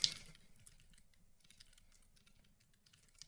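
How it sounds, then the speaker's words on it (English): Someone types on a computer keyboard while programming. Rapid, irregular key clicks sound faint and close in a quiet room, with one sharper tap at the start and no talking. "Typing's not going well."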